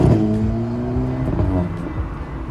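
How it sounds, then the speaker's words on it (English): A modified Volkswagen Polo GTI exhaust revs up loud and close, a droning engine tone rising then easing back over a couple of seconds. "there's something very suspicious about his exhaust"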